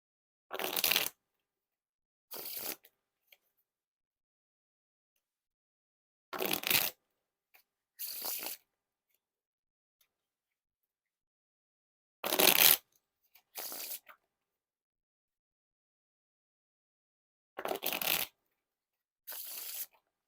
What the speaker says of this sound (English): Now onto the Riffle Shuffle or Bridge Shuffle.